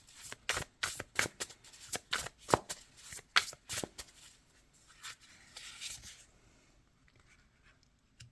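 Tarot cards are shuffled in a rapid run of crisp, riffling snaps close by, followed by softer sliding and rubbing as cards are handled and drawn, fading toward the end.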